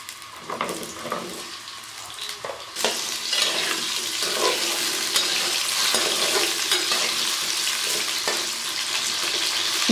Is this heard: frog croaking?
no